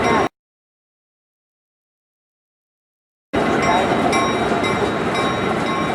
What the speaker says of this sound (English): There was a Leslie 8204 and the EMD and the electromotive diesel locomotive.